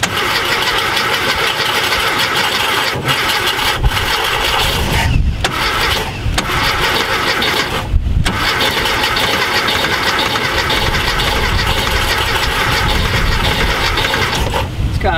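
A VW Type 181 Thing that sat for 32 years has its engine cranked by the starter in long, continuous grinding churns, with a few brief pauses, loud and close, and it never catches.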